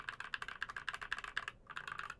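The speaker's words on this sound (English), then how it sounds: "these are cheap Gateron optical switches, I do think that they have their own unique sound and tone" Rapid keystrokes on an HK Gaming GK61 keyboard with Gateron optical switches and a steel plate, a quiet, even run of clicky taps that pauses briefly before resuming.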